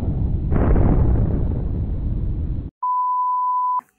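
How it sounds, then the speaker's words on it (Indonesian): A bazooka explosion in a video game, a loud booming blast with a rumbling tail that cuts off abruptly and is followed by a steady, high-pitched ringing tone. "Basoka meledak ya kau."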